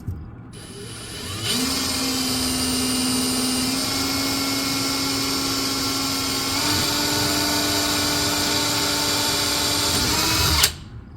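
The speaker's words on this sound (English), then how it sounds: "So the reason we're over drilling this a little bit" A power drill whirs continuously for about nine seconds while drilling screw holes on an RV, its pitch stepping up partway through, then cuts off abruptly. Close and loud.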